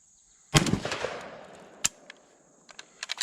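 Landor Arms BPX902 Gen 2 bullpup shotgun firing outdoors, one sharp loud blast with a decaying tail, then a lighter crack and a few faint clicks and taps, with no talking.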